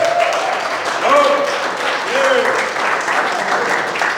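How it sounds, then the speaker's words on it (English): A seminar audience applauds in a steady, dense wash of clapping that holds for several seconds, with a few voices calling out over it. "So give yourselves a round of applause."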